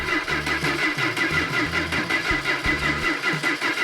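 A 1971 Dodge Challenger engine is cranked by its starter, a loud, close, rhythmic churning of repeated pulses that continues for several seconds without catching into a steady idle.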